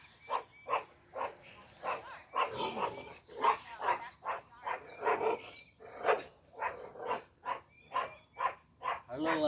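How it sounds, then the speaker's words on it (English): A small dog barks rapidly and repeatedly outdoors in a garden with soil planting boxes, sharp yappy bursts in a steady rhythm, close and loud. "Our little attack dog there, trying to be bigger than he is."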